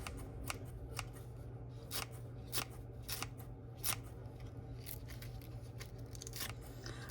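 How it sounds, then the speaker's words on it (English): Kitchen scissors snip through green onion stalks in a quick, irregular series of crisp cuts, close and quiet, with a low steady hum underneath and no talk. "Of course, I'm using my scissors"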